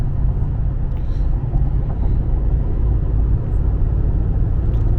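A Ford 7.3 V8 Godzilla pickup engine drones with a heavy, steady low rumble during spirited driving, loud and close, with no speech.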